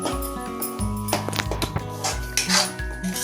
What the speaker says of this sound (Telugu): మధ్య మధ్యలో ఒకసారి కలుపుతూ